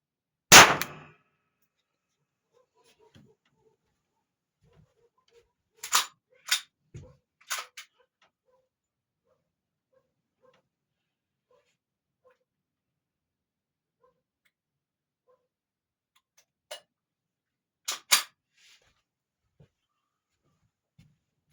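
A blue box CCI 250 large rifle primer is fired in a brisance test, giving one sharp crack followed by a series of faint, sparse metallic clicks and clinks spread across the quiet.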